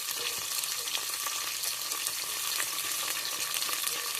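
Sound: oil frying for bagara rice

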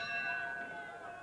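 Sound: boxing match round bell

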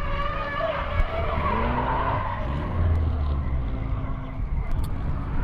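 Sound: drift car skidding with tire squeal

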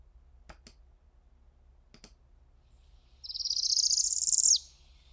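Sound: male Northern Parula song, played recording

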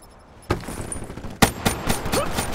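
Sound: gunfire in the video game Call of Duty: Black Ops 3

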